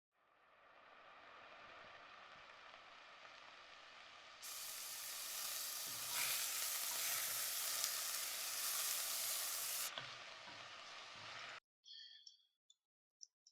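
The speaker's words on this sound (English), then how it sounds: "so they should be able to hear the sound of cooking clearly" Food sizzling and frying in a cooking scene, a steady hiss that grows suddenly louder and brighter for several seconds before falling back, then cutting out to a few faint clicks; no talking.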